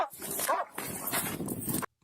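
A police K-9 dog barks at a vehicle during a roadside search, giving harsh, close barks over about two seconds, then a sudden cut to silence.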